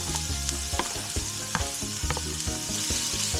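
Green and red peppers, carrots and spring onions stir-fried in a pan give a steady bright sizzle with quick spatula scrapes, all under a continuous musical backing.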